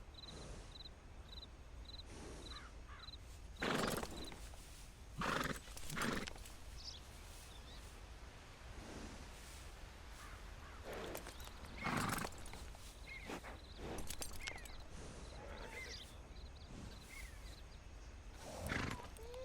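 Horse hoofbeats and riding sounds in the video game Red Dead Redemption 2, a continuous clip-clop under a dense outdoor ambience with occasional louder snorts or whinnies and a faint repeating chime.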